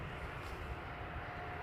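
A FedEx Boeing 757 at Toronto Pearson Airport fills the scene with a broad, steady engine roar, dense low rumble and hiss holding at constant loudness throughout, with no voices.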